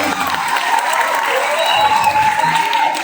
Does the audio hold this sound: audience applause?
yes